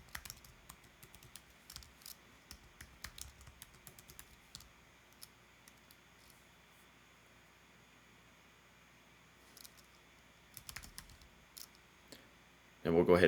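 Computer keyboard keys tapped in scattered bursts while entering a username and password, light close clicks with a long quiet pause between two flurries of typing.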